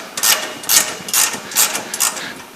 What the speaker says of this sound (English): We got to loosen this bolt here.